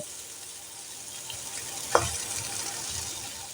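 Potatoes and brinjal frying in a pan over low heat for a vegetarian curry, a constant close sizzle with a brief clack of a utensil midway.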